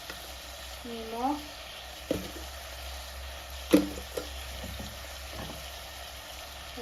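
Chicken pieces frying in a pan give off a steady low sizzle, with a few sharp clinks and scrapes from stirring; a voice speaks briefly over the cooking.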